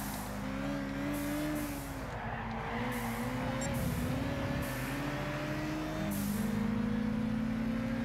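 A Lotus Elise racing at Brands Hatch in Gran Turismo 6, engine note climbing and shifting gears with tire skids and squeals amid passing cars, sustained and moderately loud.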